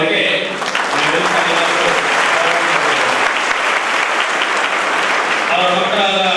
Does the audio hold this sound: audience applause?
yes